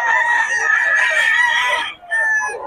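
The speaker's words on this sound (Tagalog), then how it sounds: "Solid ang manok ni Boss Batang." A loud, close rooster crows in a long strained call, then clucks briefly after a short pause.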